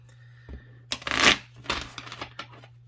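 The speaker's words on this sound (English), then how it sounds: "That's what happens when you shuffle cards." A deck of bendy oracle cards is riffled and shuffled in a burst of papery flutters and snaps, loudest in the middle, then lighter riffles trailing off; nearby, no talking.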